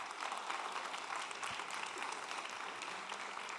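Steady applause from a crowd at a Climathon closing ceremony in Turin, continuous clapping throughout without voices standing out.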